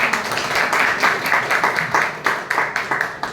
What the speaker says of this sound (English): Round of applause for Toastmasters